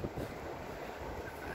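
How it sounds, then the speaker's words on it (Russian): Cold wind buffets a microphone outdoors, making a continuous, fairly soft rushing roar with small gusty swells and no speech. "Ветер у нас очень, ветер очень холодный."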